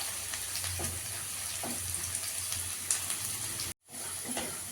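Onions fry in hot oil, a close, steady hissing sizzle with small crackles, cut by a brief silent gap before resuming.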